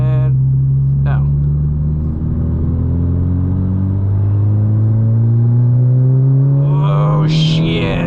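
A 2018 Honda Civic Si fitted with a PRL big turbo kit and Garrett GTX 2860R turbo pulls hard in third gear from 2,000 RPM, its engine note rising steadily in a loud, continuous climb heard from inside the cabin.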